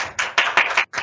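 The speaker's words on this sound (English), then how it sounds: "big applause to him because he attended as a judge this morning" A small audience at a university IT business innovation challenge event gives short bursts of close hand clapping, choppy and uneven, with brief gaps between the bursts.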